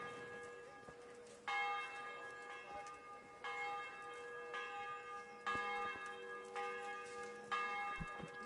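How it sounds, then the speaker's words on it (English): A church bell tolls in Kingdom Come: Deliverance, roughly six rich strikes at a slow, even pace, each ringing out and decaying, fairly quiet against a soft background. "I wonder if I would actually see a church bell."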